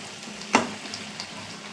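Hot oil sizzling in a pressure cooker while mutton is being cooked, a steady soft hiss with one brief louder spatter, close by and without voices.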